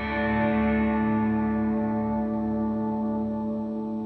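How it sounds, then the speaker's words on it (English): A sustained guitar chord washed in lush reverb from a Line 6 Helix effect with long bloom, its tone swelling and lingering as the shimmering tail slowly decays. "it's got a bit of reverb in it"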